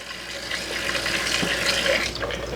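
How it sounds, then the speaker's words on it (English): A fruit and vegetable washer's pump swirls water around a few plums, making a steady, close rushing and gurgling wash with faint sloshing and no talk. "My pump turned on, the water pressure went up. Now we're getting a good swirl with the plums."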